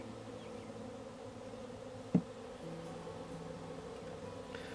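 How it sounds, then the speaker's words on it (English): Honeybees fly around a newly set up beehive, producing a steady, continuous droning buzz with one brief sharp knock partway through and no speech. "The majority of them have taken flight and are headed back up to the hive."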